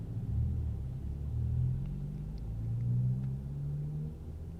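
Continuous low rumble of car traffic on a street in Norwich, Connecticut, heard from inside a waiting vehicle, with engine drones rising and falling gently and no voices.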